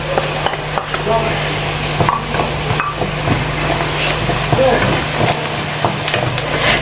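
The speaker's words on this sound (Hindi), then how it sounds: "अब इसमें सफ़ेद ज़ीरा, साबुत मिर्च और थोड़ा सा नमक डाला है, ये चला गया इसके अंदर" Onions frying in a pan with white cumin, whole chilies and salt added, a steady close sizzle with scattered scrapes and stirring clinks, and someone talking over it.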